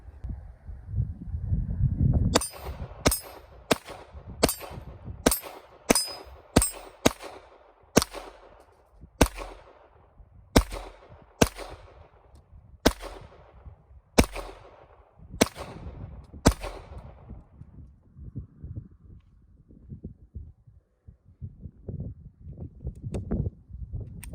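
A Taurus TX22 .22 pistol fires about seventeen sharp, loud shots outdoors in a fairly quick, slightly uneven sequence, with quieter handling noise before and after.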